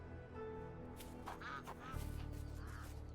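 A few short, nasal honking calls from a goose in the video game Sherlock Holmes: The Awakened, fairly close, over a steady low hum of background ambience.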